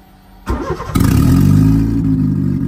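A rebuilt project car, the Project FX, cranks briefly on its starter, then fires for its very first start and settles into a steady, loud idle close to the microphone.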